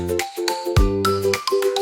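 Bright chiming bell tones ring out in a cheerful Christmas nursery song. Several clear, sustained strikes follow in a quick melodic pattern with a deeper thump near the middle.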